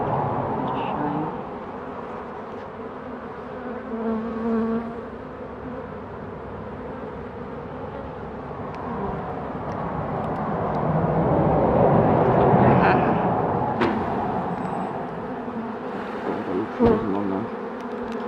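A swarm of bees buzzes in a dense, droning hum that swells and fades, with individual bees passing close, while a person talks quietly in between.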